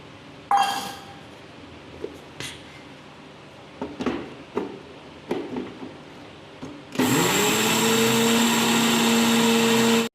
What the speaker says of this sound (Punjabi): ਆਪਾਂ ਮਿਕਸਰ 'ਚ ਧਨੀਆ ਪਾ ਲਾਂਗੇ ਜੀ